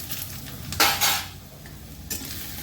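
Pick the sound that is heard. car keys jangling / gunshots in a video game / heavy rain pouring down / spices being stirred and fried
spices being stirred and fried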